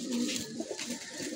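A handsome male khaki pigeon of a red-gear line gives a brief, soft, throaty coo close up, alone and without voices.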